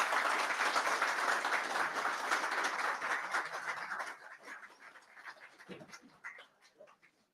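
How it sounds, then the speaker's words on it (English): Online event crowd applause for the presenters of a deep-sea navigation talk: steady, dense clapping that gradually thins out and fades into scattered claps by the end. "So some applause for the presenters"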